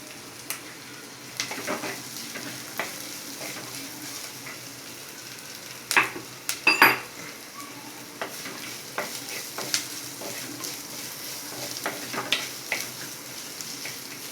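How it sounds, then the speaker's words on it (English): Onions with ginger garlic paste sautéing in an earthen pot: a soft, steady sizzle under repeated scraping stirs, with a cluster of louder clatters in the middle and no talk. "Until the raw smell goes off, saute it for around 1 minute or 2."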